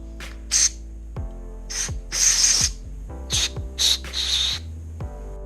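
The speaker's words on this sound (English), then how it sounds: "I am going to use this electrical cleaner on both ends here to kind of get that as clean as possible" Electrical contact cleaner sprays in several short hissing bursts onto wiring connector ends on a third-generation Honda Prelude, over a steady low background hum.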